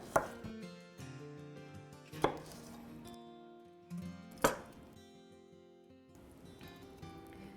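A kitchen knife cuts and twists through an avocado on a board while preparing catfish cakes, with three sharp chopping knocks spaced a couple of seconds apart over quiet kitchen clatter.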